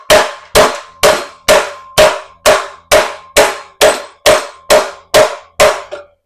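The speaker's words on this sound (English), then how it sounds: "Just stretch it out like that with a hammer" A steady series of about fourteen ringing hammer blows on metal, evenly spaced and loud, each clang decaying briefly before the next.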